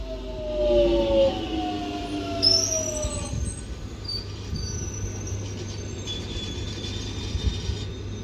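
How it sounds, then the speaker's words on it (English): London Underground Jubilee line 1996 stock train departing Dollis Hill station toward Wembley Park, a rising motor whine and fading rumble with a brief high squeal, heard alone without talk. "Now departing is going to be a London Underground Jubilee Line 1996 stock, which is off to Wembley Park now"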